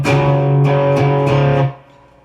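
A slow distorted electric guitar riff from a guitar lesson, with sustained chords and a few clear note changes. It rings on alone and then stops, leaving a brief decay.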